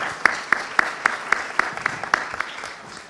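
An audience applauds in short, even claps spaced about a quarter-second apart. The claps are fairly close and sound like a small group, fading toward the end.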